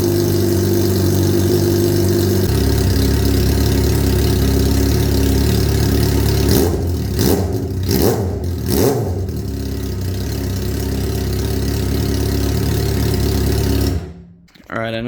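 Suzuki GSX-R600 motorcycle with a newly fitted exhaust starting up at night, settling into a loud, steady idle with a few sharp throttle blips midway before it cuts off near the end.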